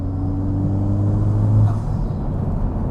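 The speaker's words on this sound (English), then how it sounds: "being able to downshift rev match" A 2020 Honda Civic Type R engine blips during a rev-matched downshift. A low, close rumble swells into a brief rev surge midway, then settles back to a steady drone.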